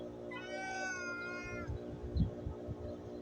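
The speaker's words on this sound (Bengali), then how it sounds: "এই বিলাইগুলার আমি খাবার দেই। দেখেন প্রতিদিন গেটের সামনে এসে ডাকে।" Several cats meow at a gate: a long drawn-out meow rises and falls, then soft thumps and shuffling follow, all fairly quiet and close, with no talking.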